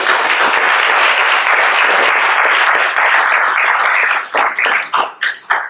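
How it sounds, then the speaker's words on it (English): A church congregation applauds warmly for a member named Jordan, a dense, steady wash of clapping that thins into separate, scattered claps in the last seconds. "We give a round of applause."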